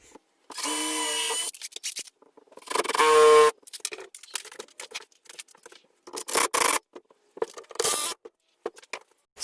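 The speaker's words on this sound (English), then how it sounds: "So all the glue squeeze out is now cleaned up. That's what I've been doing here." Glue squeeze-out scraped from a scrap wood knife block, heard as bursts of rough rubbing and scraping strokes with short pauses between, close and fairly loud, plus one brief harsh tonal screech partway through.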